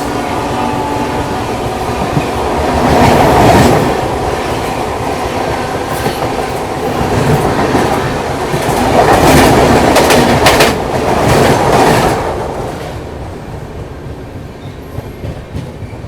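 The Seemanchal Express rolls into a station platform, loud and close, its wheels clattering over rail joints with rising and falling waves of rumble and some squeal before it fades.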